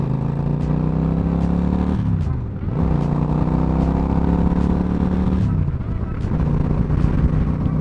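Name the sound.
motorcycle riding on the road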